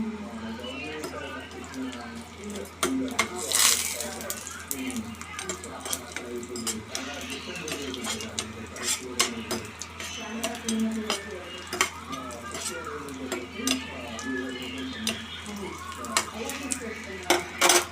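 Small bommidala fish frying in a pan, a low sizzle under repeated clinks and scrapes of a utensil against the pan, close by, with a person talking throughout.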